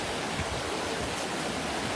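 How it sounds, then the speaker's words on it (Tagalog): Floodwater rushing under Tubod Bridge in Mahayahay, a dense, steady roar of churning water, broad and continuous with no pauses over the short stretch. "Tara guys, dako na jud kayong tubig diri sa Tubod."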